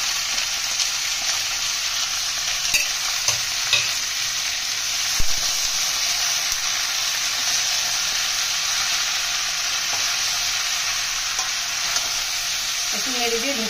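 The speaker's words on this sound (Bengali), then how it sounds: "একটু নেড়ে দিয়ে ঢেকে দিই।" Vegetables and spices such as cumin, chili, coriander and turmeric powder sizzle and fry in a pan for a Bengali chhechra dish, with occasional scraping stirs over a steady bright hiss. The frying is close and continuous, and no one speaks.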